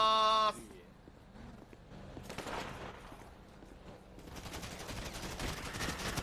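Gunfire with the suppressor removed rings out during a GTA roleplay shootout in a police station attack, a burst of shots followed by sustained rapid firing toward the end, mixed with game noise and occasional voices.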